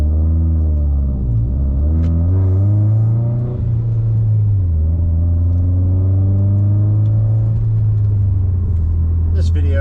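A 550whp Subaru STI engine pulls hard from inside the car on a short drive, revs rising and shifting then holding a steady loud drone, with a faint voice now and then over the rumble.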